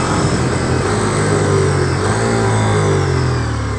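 A 2023 Ducati Diavel V4 motorcycle downshifts close up, its loud engine revving in quick rising and falling blips with no voices over it.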